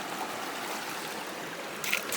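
Water rinsing sand out of a gold sluice during clean-up, a steady soft trickling wash throughout, with a brief brighter splash near the end.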